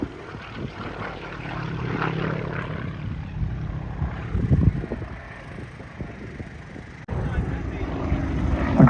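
Aerobatic propeller aircraft at an airshow flying a hesitation roll, engine drone rising and falling with wind buffeting, under a commentator's voice.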